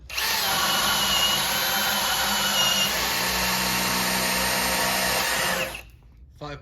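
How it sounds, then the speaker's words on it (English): A Milwaukee cordless drill on a 6-amp high-output battery bores a hole with a Diablo auger bit, a loud close whine held steady for about five and a half seconds before cutting off. "First hole with the 6-amp max output battery with the Diablo auger"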